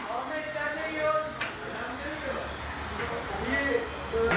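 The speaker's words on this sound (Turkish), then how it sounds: "Balata spreyle güzelce yıkıyoruz." Brake cleaner spray hisses in bursts while washing oil leaks off a Fiat Uno 70S 1.4 engine during repair, a steady airy spray sound with short sharp spurts, under background workshop noise.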